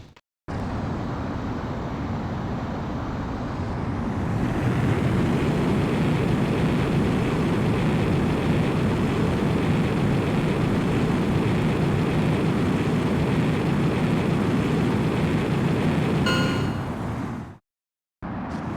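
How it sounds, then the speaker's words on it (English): A JAS-39C Gripen fighter jet in Ace Combat X roars through takeoff, a loud sustained engine rush that swells after a few seconds, holds steady for over ten seconds, then cuts off abruptly. "you are cleared for takeoff"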